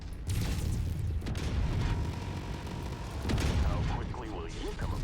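Heavy mech weapons boom and rumble in MechWarrior 5 against a 55-ton Clan mech, a dense stream of loud impacts and blasts with brief whistling effects near the end.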